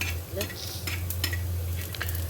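Coconut, garlic and green chili roasting in a pan, a short burst of close sizzling with a few scraping stirs and light utensil clinks.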